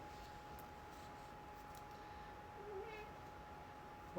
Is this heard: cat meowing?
yes